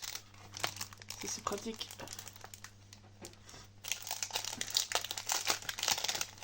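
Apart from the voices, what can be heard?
unwrapping sticker packs, plastic packaging crinkling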